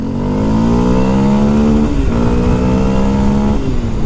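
A Kawasaki KLX230 off-road motorcycle revs hard while climbing a trail. The engine note is loud and close and holds steady, then dips briefly midway before pulling strongly again.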